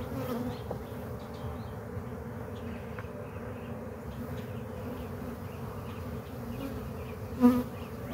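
Honey bees buzz steadily from an open Layens hive, a dense, continuous hum that stays close and even, with one brief louder swell near the end.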